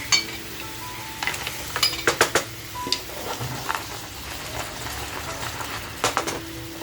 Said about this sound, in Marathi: आणि अगदी व्यवस्थित फ्राय करून घेऊया.